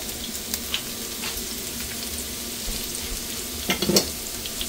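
Food sautéing in a pan on a gas stove for chicken chilli jhol momo, with a steady sizzle and brief scraping stirs, a louder clatter near the end, no talk.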